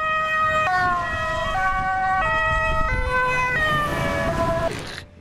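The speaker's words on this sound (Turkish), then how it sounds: "Her ülkenin kendine göre siren sesi vardır." A loud two-tone Dutch emergency vehicle siren alternates between high and low pitches in a steady, slow rhythm, close by.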